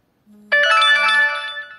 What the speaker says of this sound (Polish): nie ma to jak kurwa powiadomienie od kogoś